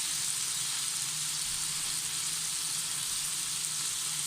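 Mutton seekh kebabs fry on a hot tawa with a steady, close, even sizzle and crackle throughout, and no voices.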